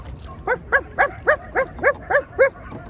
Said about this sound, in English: those dogs are really enjoying having a chat, aren't they?